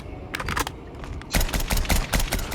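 Gunfire in a video game shootout: sharp bursts of rapid shots, a few quieter volleys at first, then louder, denser automatic fire that keeps cracking in quick clusters.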